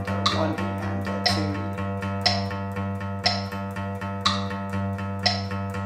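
An electric guitar with distortion picks a repeated root note, sustaining a steady low drone, while a metronome clicks about once a second, close and unaccompanied.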